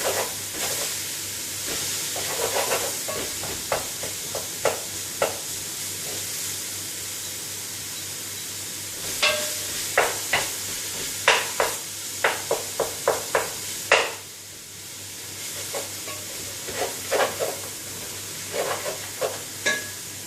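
Beef mince frying in a pan for a cottage pie, with a steady close sizzle under repeated scraping and clacking strokes as it is stirred and broken up; no talking.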